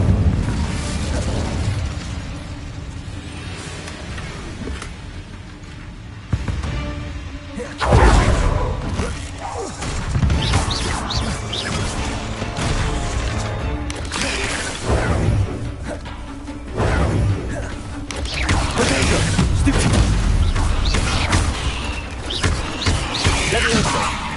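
Incendio fire spell blasts in the video game Hogwarts Legacy, loud bursting booms and whooshes recurring in waves over dense game action, with a voice calling out briefly.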